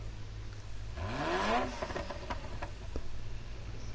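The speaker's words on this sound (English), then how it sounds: "The car sounds lovely." An early mass-production Ferrari road car in Gran Turismo Sport gives one short rev between 1 and 2 seconds, its pitch climbing through harmonics, then drops back to a low idle with a few faint clicks.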